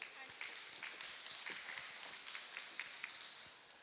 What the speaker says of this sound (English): Ladies and gents, will you give our first speaker a round of applause?